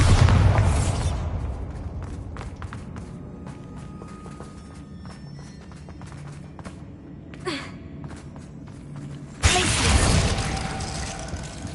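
Bombarda spell explosions in the Hogwarts Legacy game, with a loud blast near the start and another sharp boom near the end, separated by quieter in-game ambience with rustles and footsteps.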